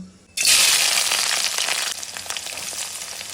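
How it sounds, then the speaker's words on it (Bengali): Green chili, onion and chopped garlic drop into hot oil with a sudden loud burst of sizzling that holds steady, then eases slightly while crackling continues close by, with no talking. "এখন এই তেলের ভিতরে দিব হচ্ছে কাঁচামরিচ পেঁয়াজ আর হচ্ছে রসুন কুচি"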